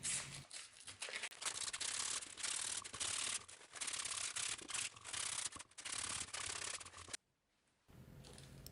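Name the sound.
sanding with sandpaper to deburr drilled holes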